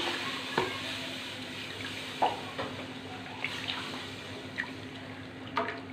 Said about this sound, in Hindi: अब इसमें दूध ऐड कर रही हूँ